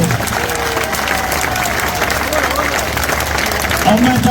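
Crowd applauding at a political gathering to welcome Abhay Singh, a steady wash of clapping with murmuring voices throughout, fairly loud and continuous.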